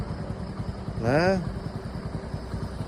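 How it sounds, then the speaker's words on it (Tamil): A motor vehicle passes through thick fog near Vedappar temple, giving a brief swelling, sliding tonal whine over a steady low engine rumble, with a voice murmuring in the background throughout. "உங்களுக்கு வண்டி போகுது பாருங்க வண்டி போச்சா பாருங்க"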